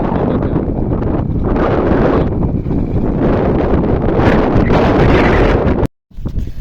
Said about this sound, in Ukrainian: Вітер у нас дуже сильний.